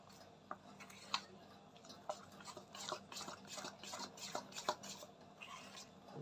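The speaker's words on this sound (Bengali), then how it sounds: "ভালো করে মিশিয়ে নেব চালের গুঁড়াটা দিয়ে আর একটু জল দিব" Eggplant batter with rice flour being mixed in a bowl, a soft rhythmic stirring with light clinks of a utensil, quiet and close.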